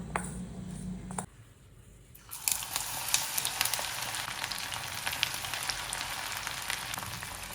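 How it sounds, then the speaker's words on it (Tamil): Mushrooms for mushroom chukka frying in a pan: a steady, close sizzle starts after a brief quieter pause and continues evenly to the end, with a short earlier burst of sizzling at the start. "இதை அப்படியே ஃப்ரை பண்ணி எடுக்க வேண்டியது தான்"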